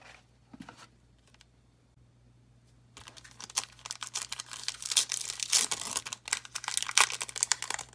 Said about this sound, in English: Let's get to cracking this pack.